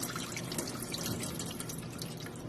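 Water carrying garden blackberries is slowly poured into a colander in a kitchen sink, a steady close splashing and dripping stream.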